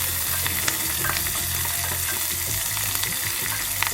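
Lengthwise-sliced green chilies and curry leaves sizzle in hot oil for thair semiya, a loud, continuous crackling fry with stirring scrapes close by and no talking.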